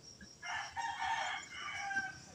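A rooster crows once nearby, a loud drawn-out call over roughly a second and a half, set against faint background noise.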